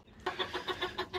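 A newly brought rooster, held in hand near a chicken coop, lets out a quick run of about eight agitated, close clucks in rapid rhythm.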